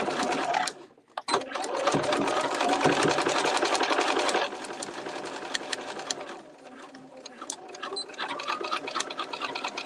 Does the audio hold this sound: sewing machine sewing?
yes